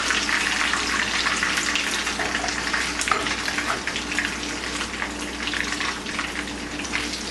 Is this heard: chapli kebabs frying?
yes